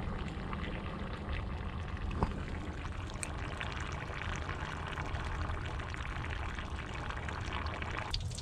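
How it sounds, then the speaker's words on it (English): Water pours steadily into a car radiator with a continuous splashing gurgle, fairly quiet, with a faint engine hum beneath and no talking. "I'm gonna go ahead and fill this up with coolant."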